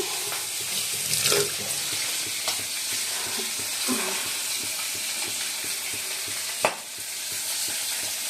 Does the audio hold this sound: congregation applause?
no